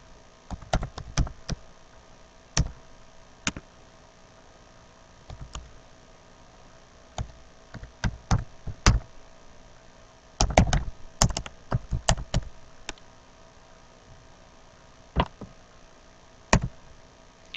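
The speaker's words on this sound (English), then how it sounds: "And type in an email address up front." Typing on a computer keyboard while entering an email address, with clustered bursts of key clicks and short pauses between them, close and clear with no talk.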